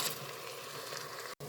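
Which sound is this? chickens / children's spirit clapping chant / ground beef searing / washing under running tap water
ground beef searing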